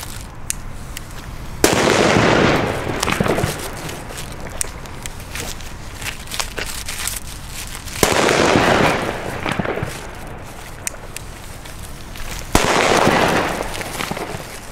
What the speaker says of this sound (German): Wirklich richtig, richtig gute Böller.